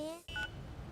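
A telephone keypad sends a short burst of dialing tones, a couple of close beeps after a brief dip in sound, set in a Kannada film scene.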